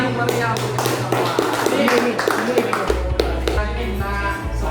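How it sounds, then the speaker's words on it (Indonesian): Applause in a classroom, with scattered claps and taps over a steady low hum, lively voices mixing in throughout. "kita kasih tepuk tangan yang meriah untuk kita semua."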